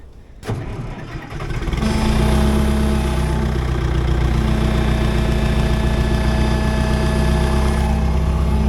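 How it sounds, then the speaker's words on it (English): An engine on property-clearing equipment cranks over and settles into a steady low idle, loud and close, with a constant droning hum and an odd rubbing vibration running underneath. "stay at a low idle here, and hopefully whatever that frequency, that rubbing, whatever the heck's going on there, that odd noise goes away here soon"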